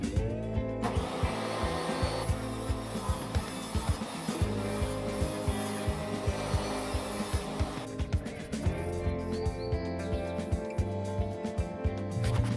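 A power saw rips lengthwise through a live-edge wooden board with a loud, continuous grinding roar that briefly dips midway, then resumes cutting steadily to the end.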